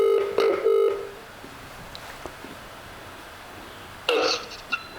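Telephone keypad dialing tones beep in two bursts, a rapid cluster at the start and another near the end, with a quiet gap of faint background hiss between them, placed while calling a property seller.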